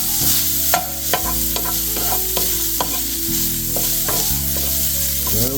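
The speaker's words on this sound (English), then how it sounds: "and then we stir fry" Shrimp and broccoli with a touch of white pepper stir-fry in a hot pan, a loud steady sizzle with repeated spatula scrapes and knocks throughout.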